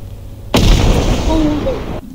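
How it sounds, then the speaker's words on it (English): A loud, sustained explosive blast from bombs thrown in the video game Content Warning, starting abruptly and rumbling on for about a second and a half before cutting off, with faint tonal game sounds within it. "He's throwing bombs at us."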